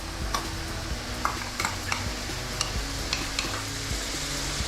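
Ginger garlic paste is stirred in a frying pan with a steady sizzle underneath, and a spoon scrapes and taps against the pan in quick irregular strokes, close and fairly loud, with no talking.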